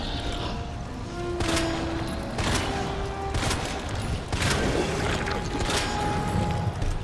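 Sniper rifle fire from Resident Evil 2 sounds in the final Mr. X boss fight, with loud, heavy shots about once a second. Each report booms and rings briefly over a dense rumbling game soundtrack.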